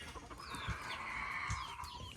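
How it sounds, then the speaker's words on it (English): Chickens cluck and chirp steadily near a house construction site in the Philippines, with soft background noise and no talk. "I need to check on the chicks."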